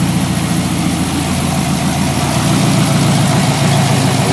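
An LS V8 swapped into a Porsche 944, running after an oil leak repair, a loud, steady low rumble with constant mechanical drone and no talk over it.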